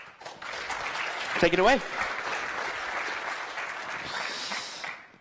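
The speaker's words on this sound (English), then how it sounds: "please, warm round of applause for Luca" A conference audience gives a speaker a warm round of applause, moderately loud clapping that follows a brief spoken line and runs on for several seconds.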